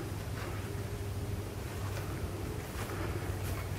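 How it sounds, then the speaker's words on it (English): Steady outdoor wind at Koreshan State Park in southwest Florida, a constant broadband rush with faint gusting swells and nothing else standing out. "The wind's picking up."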